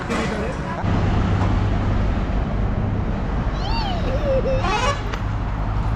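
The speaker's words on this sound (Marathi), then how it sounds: "हा ट्रॅव्हल्सचा हॉर्न मला खूप आवडतो जे प्रेशर हॉर्न असतात" Pressure horn of a travel bus honking in roadside traffic during a Konkan Shimga festival trip, a couple of short wavering toots late in the clip over steady engine and road noise, with voices talking.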